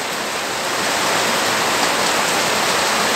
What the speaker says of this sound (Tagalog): Yun o, baha. Umuulan.